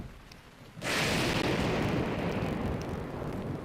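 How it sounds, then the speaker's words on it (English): A lightning strike in the video game Breath of the Wild, a sudden loud crack bursting into a long rumbling roar that slowly fades, heard alone without talk. "As I get struck by lightning"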